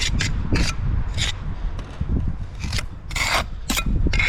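A trowel scrapes excess mortar off brickwork while scaffold holes are being filled, giving several short, close rasping strokes in uneven bursts over a low steady background.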